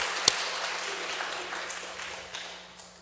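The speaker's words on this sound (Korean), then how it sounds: "박수로." A church congregation at a Korean Parents' Sunday worship service breaks into a diffuse, moderate round of clapping that gradually fades over a few seconds.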